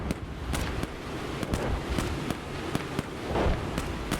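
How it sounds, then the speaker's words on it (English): Artillery strike in a Marder A1 infantry fighting vehicle game, a run of sharp distant explosions landing at an irregular pace, roughly a dozen booms over a constant rumbling background. "I think I'll drop some artillery on them just to finish them off"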